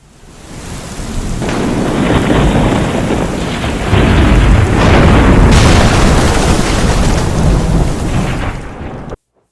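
Loud thunderstorm sound effect played as a stinger for a quiz lightning round: heavy rain hiss throughout with rolling thunder swelling and booming near the middle, then cutting off abruptly at the end.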